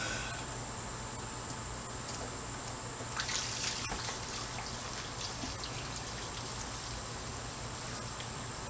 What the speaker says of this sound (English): That's water coming out of a vacuum.